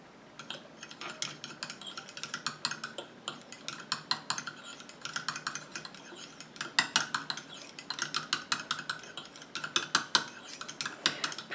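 Cream eyeshadow is mixed with white oxide pigment by hand, producing a quick run of small scraping and tapping clicks, close and fairly faint, coming in irregular bursts with no talk.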